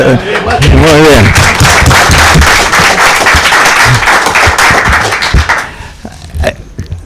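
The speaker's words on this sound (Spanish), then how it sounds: "hay que aplaudir" Audience applause at a panel on football novels and short stories, loud close clapping with a few cheers and voices mixed in, which fades out near the end.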